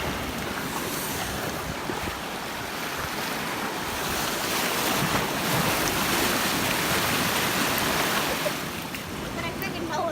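Ocean waves wash continuously onto a beach in a broad, loud hiss of surf mixed with wind buffeting the microphone, with voices faintly present.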